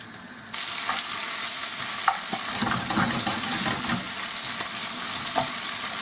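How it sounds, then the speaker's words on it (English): Hare loins frying in a hot pan give a steady, loud sizzle that starts abruptly and holds throughout, with occasional pops and crackles and no talking. "take the loins in a hot pan for 3 or 4 minutes either side, and they're ready"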